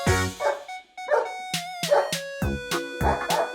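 A small dog barks repeatedly in short, sharp yips with a few whimpering tones, loud and close, playing alongside toy farm and zoo animals splashing in a pool of colorful balls.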